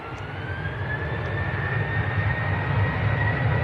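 A Ryanair jet at Manchester Airport starts its takeoff roll bound for Brussels, its engines building into a loud, rising roar with a thin whine running over the rumble.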